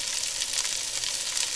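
Onion sizzling in a hot pan for aloo gobi, a steady, even hiss of frying that carries on throughout with no talking.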